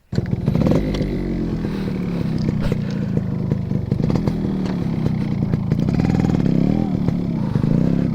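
A restored vintage Yamaha RX 100 two-stroke motorcycle idles and revs on its main stand after a kick start, a loud close buzzing engine with rising and falling pitch and some clatter.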